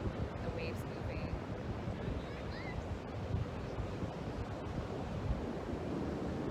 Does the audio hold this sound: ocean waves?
yes